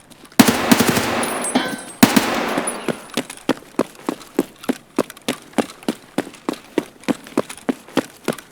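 Automatic gunfire in Escape from Tarkov on the Interchange map: a loud, dense opening burst, then a long run of evenly spaced single shots rattling off at a steady, rapid rhythm, close and clear with almost no talk.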